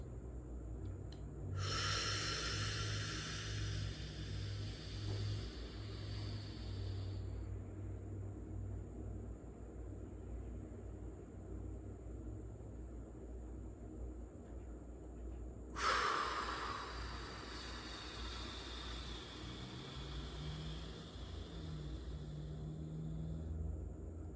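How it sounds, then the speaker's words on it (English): Slow box breathing: a long audible inhale through the nose, a quiet held pause, then a long exhale, repeated twice in measured cycles close to the microphone over a low background hum. "I'm going to inhale for 5 seconds, hold it for 5 seconds, exhale for 5 seconds, and then hold again for 5 seconds"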